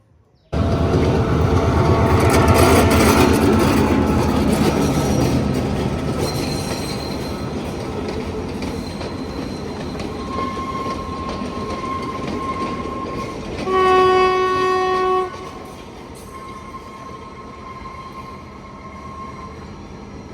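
A passenger train on the Kandy to Ella line in Sri Lanka rumbles steadily past nearby, wheels clattering, with a loud horn blast sounding partway through before the noise gradually eases off.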